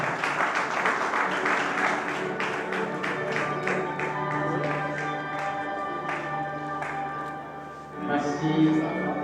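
Applause from the audience at a public doctoral thesis defense at UPN, sustained clapping with a musical or ringing tone layered underneath, swelling again near the end.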